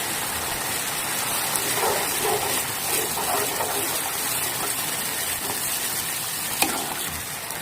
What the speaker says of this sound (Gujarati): હવે આપણે દૂધ નાખીશું.